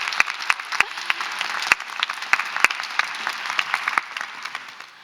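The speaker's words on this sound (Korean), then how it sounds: "박수 한번 주세요." A crowd at a live talk breaks into lively applause, bright dense clapping with a few loud sharp claps near the front, holding steady before fading out toward the end.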